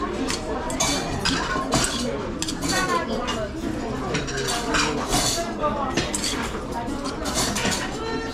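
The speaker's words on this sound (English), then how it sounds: "Spoon mixes up really well." A spoon clinks and scrapes against a bowl while stirring rice with hot sauce, a busy run of light metallic taps and scrapes under people talking at a market.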